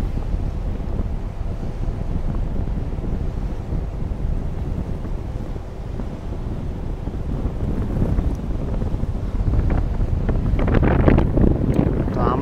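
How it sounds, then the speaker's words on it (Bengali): Strong wind buffets the microphone on the deck of a ship sailing the Red Sea amid heavy waves, a constant low roar with surging water swells building toward the end. "বাট ঢেউগুলো কিন্তু অনেক বেশি"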